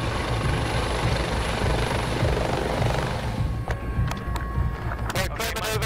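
An air ambulance helicopter comes in to land at a hospital, its loud, steady rotor and engine roar filling the scene close up, with brief clicks and crackles of radio or handling noise near the end.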